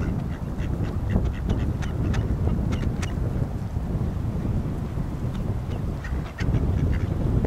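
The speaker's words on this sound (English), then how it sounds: "There's all sorts of birds on the lakes on campus." Ducks quack in short repeated calls from a lake on a university campus, heard under steady, loud wind buffeting the microphone.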